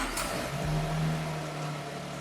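A Toyota Land Cruiser LC300 with a V8 engine idles right after startup, a steady low rumble with a faint whir on top, close by and even in level for a couple of seconds.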